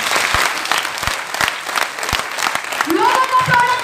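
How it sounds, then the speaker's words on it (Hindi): An audience at a sales meeting claps in a loose, uneven patter with some sharp individual claps standing out, while a voice talks and a brief tonal sound rises near the end. "एक बार तालियां हो जाए खुद के लिए।"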